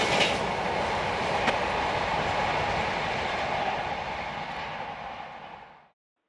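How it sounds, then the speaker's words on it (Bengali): A passenger train pulls away from a small rural station in Jharkhand, India, its loud broadband rumble and wheel clatter filling the air close by, then fading as it recedes before cutting off. "ট্রেন চলে গেল আমাদের ছাড়িয়ে আরো আরো দূরের কোনো গন্তব্যস্থানে"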